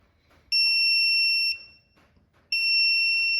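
An AtemPower 12V 100Ah battery hub sounds a shrill electronic alarm during a discharge test, two sustained one-second beeps about two seconds apart, loud and close in an otherwise quiet room.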